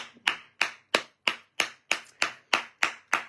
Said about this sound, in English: Help me give them a round of applause.